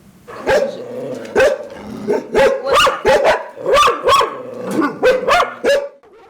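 Several dogs at an animal shelter housing over 60 dogs bark repeatedly in loud, uneven bursts, some sharp yips mixed in, close by with no talking.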